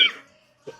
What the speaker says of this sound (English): I had to get that cough out anyways